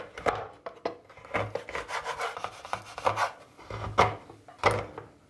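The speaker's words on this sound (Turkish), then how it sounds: "50 gram sütlü çikolatayı doğrayacağım." Irregular scraping and chopping strokes of a knife cutting milk chocolate on a board, close and crisp, in uneven bursts over a few seconds with no talking.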